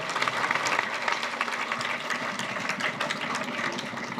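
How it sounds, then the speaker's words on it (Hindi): Dense, steady applause from a large crowd at a government school event, many hands clapping continuously at an even, loud level with no pauses. "जोरदार तालियां।"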